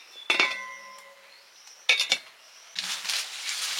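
A lid clinks onto a cooking pot of prawns with taro: two sharp metallic clatters close by, a short pause between them, then a steady sizzling hiss from the covered pan.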